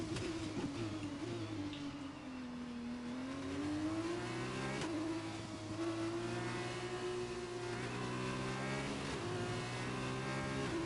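F2 race cars accelerate behind the safety car, their engines rising and falling in a loud sustained whine as several cars rev through the gears together.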